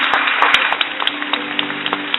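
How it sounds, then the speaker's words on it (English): A church congregation claps hands during worship, a dense run of sharp claps over a sustained musical tone, close and lively. "Let those hands clap."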